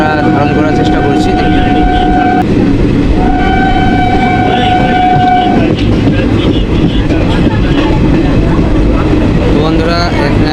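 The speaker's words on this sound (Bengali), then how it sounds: "ছোটো ছোটো ব্রিজ আছে যেগুলো ক্রস করে এই ট্রেনটা পার হচ্ছে" A train rolls loudly and steadily across a small bridge culvert over a marsh, sounding two long horn blasts early on, with a voice talking over the rumble.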